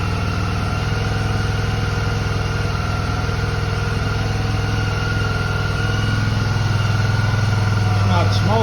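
A 2012 Suzuki V-Strom DL650A motorcycle engine runs steadily at idle, a loud, continuous low hum that holds even throughout, up close with no talk over it.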